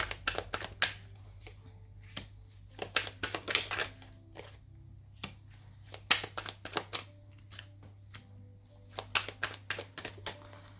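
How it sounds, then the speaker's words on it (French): Tarot cards are shuffled in quick riffling bursts, crisp close flutters repeating in clusters with short pauses over a faint steady hum. "On va prendre 3 cartes pour le passé."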